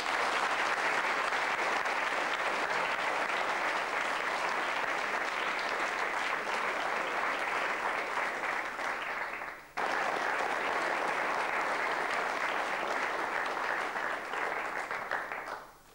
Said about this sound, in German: Beifall kommt heute pauschal.